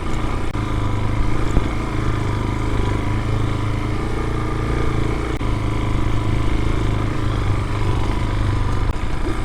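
A 2022 Peacesports Brozz Recon 250 dual-sport enduro motorcycle engine runs steadily and smoothly at close range, a constant low rumble with no pauses throughout.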